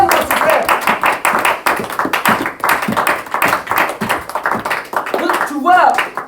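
A church congregation claps rhythmically to acclaim God, a dense, loud, steady beat of many hands mixed with voices singing and calling out throughout.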